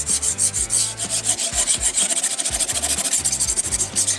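Scissors are sharpened against a stone on a Kazak Model 10 sharpener, giving a close, rhythmic scraping rub with repeated strokes and a hissy grinding texture, heard alone without talk.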